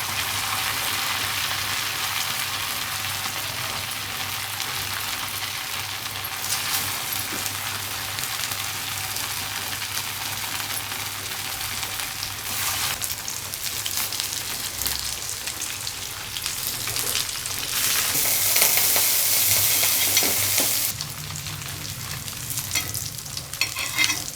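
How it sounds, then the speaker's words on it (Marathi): Boiled taro roots and peeled potatoes fry in a pan with a continuous close sizzle, broken by intermittent scraping and pressing as pieces are stirred and flattened, swelling louder near the end. "आता आपण त्यांना जरा फ्राय करून घेऊ असे दाबून घ्यायचे असे फ्राय करायचे"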